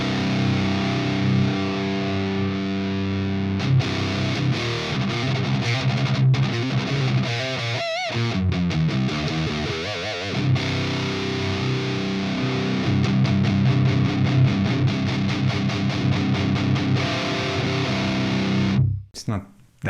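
Marshall Silver Jubilee 2555X guitar amp with its switch pulled, giving a saturated metal tone as riffs and chugs play steadily and loud for most of the clip before stopping abruptly at the end.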